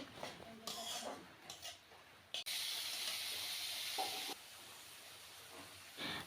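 Green peas go into a pan of frying spice masala, bringing on a bright, steady sizzle and hiss that runs for a few seconds after some quieter stirring noises and brief talk.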